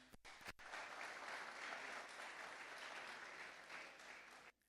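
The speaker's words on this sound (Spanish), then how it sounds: "Recibimos a estas dos personas con un fuerte aplauso." An audience at a Laudato Si conversation event bursts into strong, dense clapping that welcomes two speakers and fades slightly toward the end.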